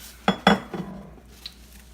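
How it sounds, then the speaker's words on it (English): Fried plantains set down onto a serving dish, giving two or three distinct close knocks and clinks within about half a second, then a fainter tap and quiet room tone. "I'm going to plate them in a dish like so."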